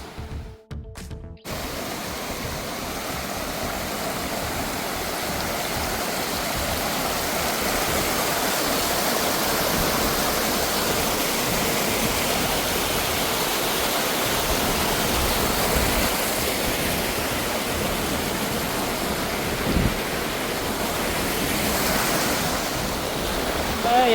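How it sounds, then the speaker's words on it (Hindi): A small mountain river near Mana village rushes over rocks, a steady broadband roar of flowing water heard close up, with a few brief knocks at the start and no speech. "मतलब इस छोटी सी नदी को पार करूँगा"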